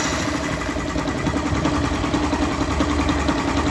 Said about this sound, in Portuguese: vamos dar a partida agora, vamos ver se vai fazer o mesmo barulho que estava fazendo antes